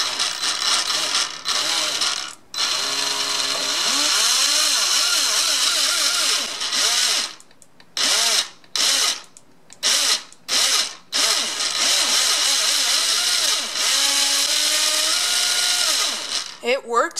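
Trinity 24k 17.5 brushless RC car motor on its first test run, high-pitched whining spin-ups rising and falling in pitch, with rapid on-off throttle bursts near the end, loud and close.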